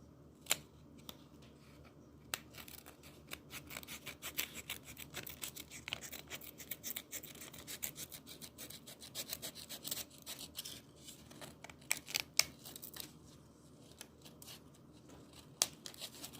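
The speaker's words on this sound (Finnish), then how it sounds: "otatte sakset ja vähän leikkaatte sitä" Scissors snip again and again to trim the leftover edge of a handmade puppet, quiet close clicks in an irregular rhythm with soft handling rustle between cuts.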